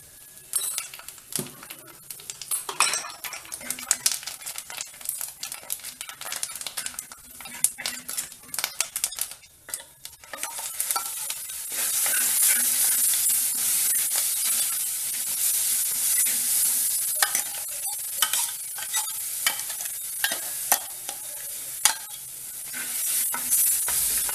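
Masala paste for a matar egg curry is stirred in a pan with a metal spoon, making scraping clatter at first, then a steady close sizzle of frying with further stirring scrapes.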